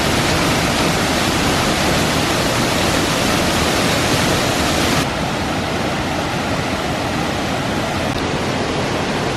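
A waterfall on Mount Haguro in Japan roars in a loud, unbroken wash of noise, steady throughout with a slight drop in brightness midway, heard close by.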